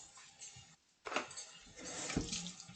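Water runs from a tap as a soapy sponge is rinsed, a faint trickle that stops briefly and then returns louder with light clinks of dishes in a sink.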